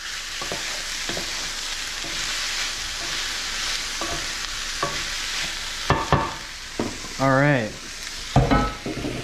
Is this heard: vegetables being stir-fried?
yes